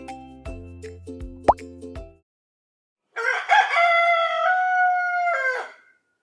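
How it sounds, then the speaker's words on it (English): A hen's rapid clucking and squawking calls, loud and close with a harmonic voice, lasting about three seconds after a stretch of silence. "It's a hen! Hen sound name is clock."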